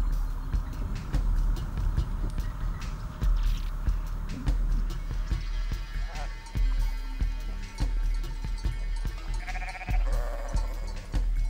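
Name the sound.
sheep bleating near lake villages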